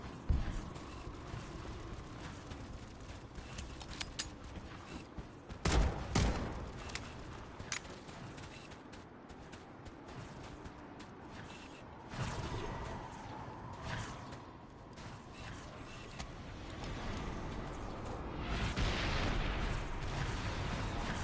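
Gunfire in the Halo Campaign Evolved video game, with sustained explosive shots and booming bursts over a dense battle backdrop, one sharp loud blast near the middle and heavier rumbling toward the end.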